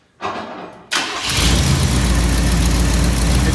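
A 1984 Chevy Blazer barn find cranks briefly, then the engine catches and settles into a loud, steady, close running rumble.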